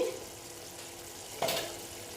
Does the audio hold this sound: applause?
no